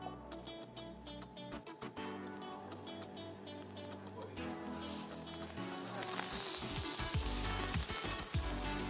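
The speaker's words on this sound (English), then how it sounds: "we're gonna flip this over, and we're gonna add it right to our pan" A whole grain tortilla quesadilla sizzles and fries in a pan, a steady crackling hiss that grows louder and busier partway through, with no talking.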